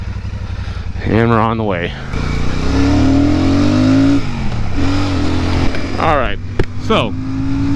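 A Royal Enfield Super Meteor 650 motorcycle engine rises through a long, loud acceleration, its pitch climbing before easing and climbing again, while the rider talks over it.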